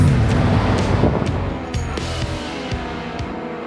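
A Hellcat Redeye engine swapped into a 1988 Jeep Grand Wagoneer accelerates with a deep, steady roar. Road and wind rush stay loud and continuous throughout, with the low engine tone strongest at the start.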